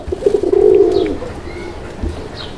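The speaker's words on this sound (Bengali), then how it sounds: "মাদিটা দেখে আর ডাক শুরু করে দিছে" A Raj Golla pigeon, a male near a female, gives one close, loud, throaty rolling coo, followed by softer faint rustles and chirps.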